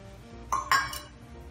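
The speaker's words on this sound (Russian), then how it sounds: "И все это мы хорошо перемешиваем." Two quick clinks of a utensil against a bowl while salt, baking powder, sugar and nuts are mixed, sharp and close in an otherwise quiet moment.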